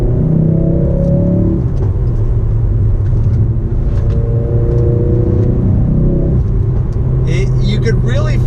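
A Ford Focus RS with all-wheel drive pulls hard through third gear on a twisty road, its engine note rising and falling loudly from inside the cabin while someone talks over it.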